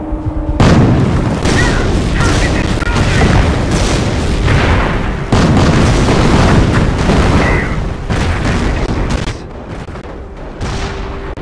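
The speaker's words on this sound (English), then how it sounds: "Attention! The enemy advances! Defensive battery fire initiated!" Artillery battery fire in the World War II strategy game Company of Heroes: dense, continuous rumbling booms and blasts that stay loud and overlapping for several seconds before easing slightly.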